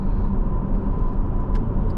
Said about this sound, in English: V8s just have a really distinct sound, and they all sound phenomenal no matter what the brand is.